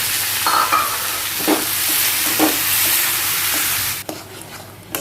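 Dates, raisins, cashews and pistachios frying in a pan and being stirred, a steady close sizzle with scraping strokes of the spoon, cutting off sharply near the end.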